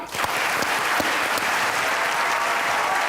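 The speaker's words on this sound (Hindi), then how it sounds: "आपकी भरपूर तालियों में ख़वातीन हज़रात, सही है, सलमान गिलानी" A studio audience breaks into loud, sustained applause welcoming a poet onto the stage at a comedy talk show, dense clapping steady for the whole stretch.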